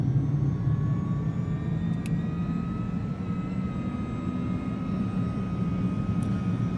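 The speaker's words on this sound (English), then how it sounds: "let's get the engines powered up" Twin-free single-engine Vision Jet engines spool up in a flight simulator cockpit, a steady loud broadband roar with a faint rising whine, continuous and close, with no talk.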